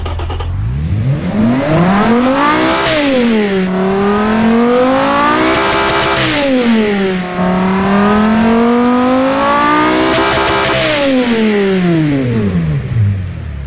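A 200-horsepower car engine in a car-building game revs loudly and close, its tone climbing and falling in repeated sweeping waves for over ten seconds with no pauses.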